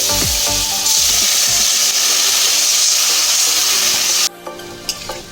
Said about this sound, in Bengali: আমার মশলাটা কষানো হয়ে গেছে, এবার আমি এতে জল দিয়ে দিচ্ছি